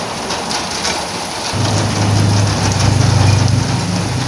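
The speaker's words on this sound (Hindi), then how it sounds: "बारिश तेज हो रही है मम्मा, जल्दी जल्दी करो, बारिश तेज हो रही है।" Heavy rain pours down steadily and loudly, growing denser after a moment, with a low rumble beneath the hiss.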